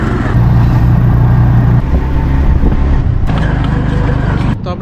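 Riding in a CNG auto-rickshaw in Sunamganj, the small engine drones steadily up close under road and wind noise, with a brief clatter near the end.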